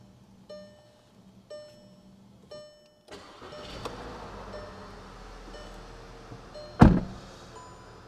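A 2017 Volkswagen Tiguan Wolfsburg Edition: a few soft clicks, then the engine cranks and catches into a steady quiet idle, with a sharp loud thump near the end.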